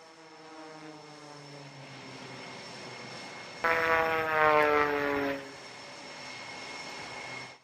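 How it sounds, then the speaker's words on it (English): Propeller aerobatic airplane flying a lumpy loop at the Hill Air Show 2024, its engine a steady droning hum that swells into a louder, rougher surge midway before easing back to a sustained drone. "Torquing the aircraft at minimum speed."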